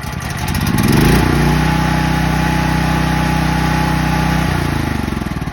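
Briggs & Stratton Elite engine with CO Guard running, a loud steady small-engine drone that swells as it revs up, holds at an even pitch, then drops back, heard close with no talk.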